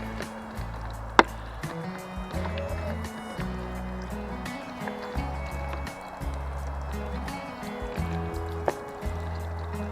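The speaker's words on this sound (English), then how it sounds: "I'm only going to give this a light watering" A seed-sowing pot of soil is given a light watering, the water trickling and pattering softly and unevenly over a low background rumble.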